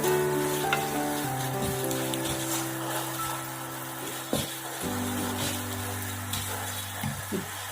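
Masala roasting and sizzling steadily in a pan while crab roast is prepared, a continuous frying hiss with occasional stirring clinks, close and moderately loud, with no talking.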